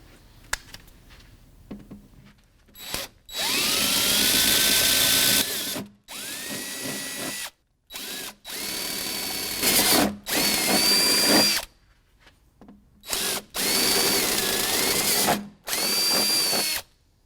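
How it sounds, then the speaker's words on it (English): A power drill whirs in several loud, close bursts with short pauses between, its pitch rising and whining as the bit bites through thin sheet metal on a 2015 Jeep JKU rear fender. "as you start to get all the way through the sheet metal, back off a little bit or prepare to stop"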